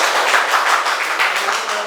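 A classroom of students clapping hands together, a dense continuous patter of many hands close by with a loose repeating pulse and no talking over it.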